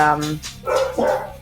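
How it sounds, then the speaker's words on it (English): A pet dog barks indoors in the background, a couple of short sharp yips following a brief tonal whine, fairly close and moderately loud with no speech over it. "excuse my dog in the background"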